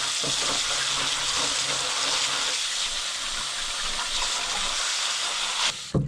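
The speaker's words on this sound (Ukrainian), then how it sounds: "наступним етапом я мою ланцюг своєю водою і проходжусь по ньому щіточкою" A bicycle chain washed with water and scrubbed with a brush, giving a steady, loud hissing wash of spray and scrubbing noise that ends with a few brief knocks.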